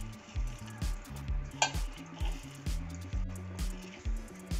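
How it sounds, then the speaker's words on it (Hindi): Thekua dough with sugar is mixed by hand, giving rhythmic soft squishing pushes about twice a second, close and moderately quiet. "इसको अच्छे से मिक्स कर देंगे"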